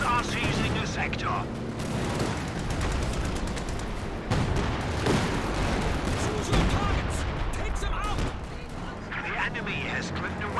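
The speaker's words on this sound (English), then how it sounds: "Major arty coming down, and it's a hard retreat there from the Grenadiers" Heavy artillery barrage and gunfire erupt in a Company of Heroes 2 2v2 match, with repeated booms and crackling shots layered densely and loudly, while a commentator talks over the battle.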